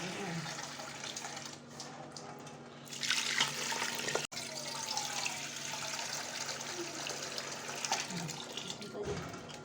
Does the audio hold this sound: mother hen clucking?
no